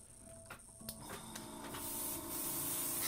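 An airbrush sprays clear water through itself for cleaning, a hissing spray that starts with a few short spurts and taps, then builds into a steady, louder hiss close by.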